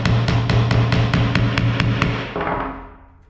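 A hammer taps a pin into position, striking about nine sharp, evenly spaced blows close by, the last ones tapering off into quiet.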